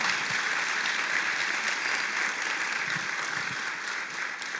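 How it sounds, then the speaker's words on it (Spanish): A church congregation gives a sustained round of applause, a dense, even wash of many hands clapping together at moderate distance, steady for several seconds with no talking. "démosle un fuerte aplauso al Espíritu Santo"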